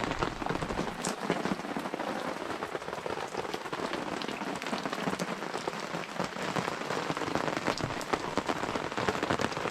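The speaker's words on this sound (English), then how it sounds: "fingers crossed this rain clears by tomorrow" Steady rain pours onto a waterlogged campsite, with runoff streaming through camp; a dense, continuous hiss of drops drumming on surfaces, close and fairly loud throughout, with no voices.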